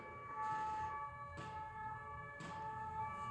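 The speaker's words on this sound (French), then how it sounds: "on peut entendre un petit peu la rue quand il y a les sirènes" An emergency vehicle siren wails faintly from the street, heard indoors in an apartment as a steady tonal drone, with a few soft thuds over low room noise.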